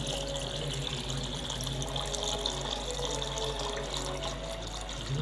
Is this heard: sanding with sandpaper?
no